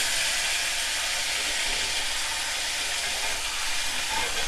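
Pork chops sizzle loudly in a skillet right after being flipped, making a dense, continuous hiss that holds steady without pause.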